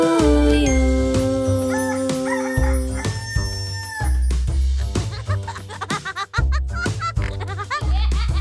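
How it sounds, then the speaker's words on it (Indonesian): A rooster crow rings out within a bouncy children's song, set among bright synth melody, steady bass and percussion that carry on throughout. "Lihat ayam bilang"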